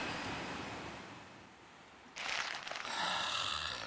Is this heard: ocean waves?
yes